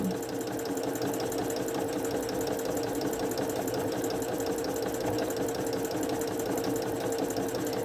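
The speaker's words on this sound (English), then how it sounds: "Just guide your fabric nice and easily, and the gathers will be created by your machine." A sewing machine fitted with a gathering presser foot runs steadily while gathering fabric, a fast, even mechanical whir and rhythmic needle chatter, close and continuous with no voice.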